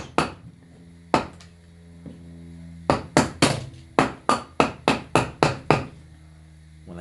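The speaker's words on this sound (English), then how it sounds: "Or I can put my chisel down flatter" A chisel driven across a wooden board to cut out a notch, with sharp, ringing hammer-like strikes coming in a steady series of about a dozen blows, some spaced apart and others in quick succession, close and loud.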